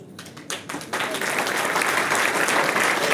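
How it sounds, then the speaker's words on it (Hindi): Audience clapping at a product presentation for an AWPL direct-selling plan, starting as a few scattered claps and swelling into sustained, dense applause. "नाम से ही तालियां बज जाती हैं हमारे प्रोडक्ट के लिए"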